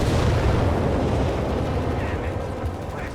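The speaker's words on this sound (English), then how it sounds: "Another Needler barrage. This time towards the entrance of his opponent's base" A Nebelwerfer rocket barrage in Company of Heroes 3 rolls in as a continuous dense rumble of launches and distant explosions, loud throughout, while a commentator talks over it.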